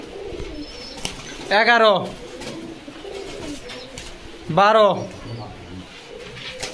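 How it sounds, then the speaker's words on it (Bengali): Pigeons in a pigeon house give two clear, close coos a few seconds apart, each a short warbling roll, while a man counts aloud over the steady background. "7 জোড়া কবুতর।"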